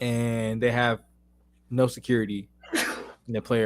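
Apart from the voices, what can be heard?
sneeze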